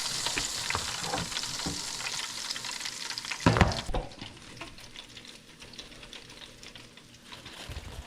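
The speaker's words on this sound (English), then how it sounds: "That's about all there is to frying the fish." Crappie fish sizzles and crackles steadily in hot oil, with a brief louder clatter midway, then the frying continues more softly.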